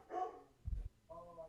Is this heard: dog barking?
yes